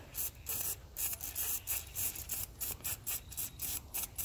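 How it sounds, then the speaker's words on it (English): Repeated short bursts of Buck Bomb deer estrus lure sprayed from an aerosol can onto leaves outdoors, each hiss pulsing on and off in a steady rhythm, close and fairly loud. "I'm just going to go ahead and spray it"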